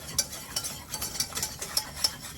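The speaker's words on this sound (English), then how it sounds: "We're gonna whisk that together like this" A roasted garlic white mac and cheese sauce whisked in a pot over low heat, giving a quick rhythmic run of light metallic clinks and scrapes.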